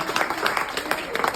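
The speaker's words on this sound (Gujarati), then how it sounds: "જોરદાર તાળી એમના માટે" Audience applause breaks out for a lucky draw winner at a blood donation camp event, a brief patter of clapping mixed with crowd noise and a voice over it.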